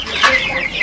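Chickens cluck from a henhouse, a close, loud burst of clucking calls filling the short moment.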